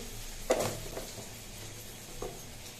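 Nigella seeds, turmeric, sugar and ginger temper in hot oil for spinach, giving a faint, low sizzle broken by a sharp clatter early on and a softer knock later.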